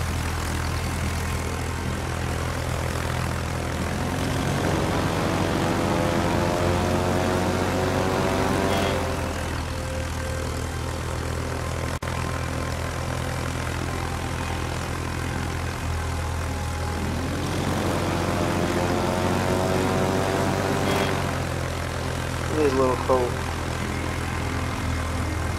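Propeller aircraft engines in a naval video game drone steadily at moderate loudness, swelling twice as planes pass, with a voice talking over the hum.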